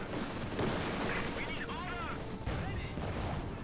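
Grenadier squads fire in Company of Heroes 2, a real-time strategy game, producing repeated rifle and machine-gun bursts layered with battlefield noise and a commentator talking throughout.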